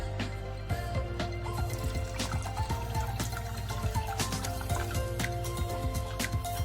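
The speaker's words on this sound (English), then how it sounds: "And we're going to add the water." Water poured from a glass into a pan of small fish curry (moila), a steady continuous pour and trickle over low hum, fairly close, with no talking.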